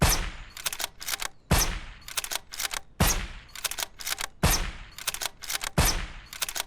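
Repeated bursts of gunfire in the video game SurrounDead, each a sharp loud crack followed by a quick rattling string of shots, recurring about every one and a half seconds, close and unaccompanied by talk.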